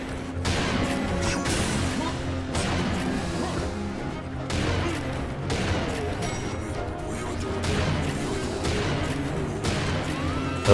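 Wooden crates smash over and over in Serious Sam 2 amid a dense, loud din of game combat, with repeated sharp cracks and crashes layered over constant gunfire-like roar and whooshes.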